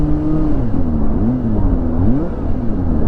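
A Kawasaki Ninja ZX-25R with a Japanese WRS racing exhaust revs nearby, its engine note rising and falling in a loud, steady drone throughout.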